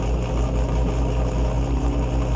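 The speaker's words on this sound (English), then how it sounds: "Man, that thing sounds good idling" A Nissan Z engine idling in the video game Car Mechanic Simulator, a steady, deep rumble that holds even and close for a couple of seconds with no other sounds.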